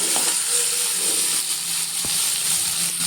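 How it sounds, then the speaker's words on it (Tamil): Masala paste sautéing with drumsticks and potatoes in a pan for murungakkai kara kulambu, a loud continuous crackling sizzle with a single sharp knock of a spoon partway through. "இது கூட கொஞ்சம் பேஸ்ட்டு அதையும் போட்டு வணக்கலாம்."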